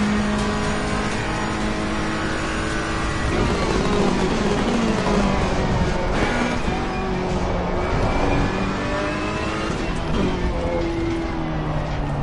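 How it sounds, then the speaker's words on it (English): A Ferrari 488 GT3 race car in the Assetto Corsa Competizione video game, driven at Silverstone, runs with its engine loud and continuous, climbing and falling through revs and gear changes for the whole stretch. "we're driving it in a Ferrari 488"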